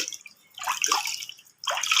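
Water is poured into a new clay pot being seasoned, two splashing bursts separated by a brief lull, close and clear with no talking.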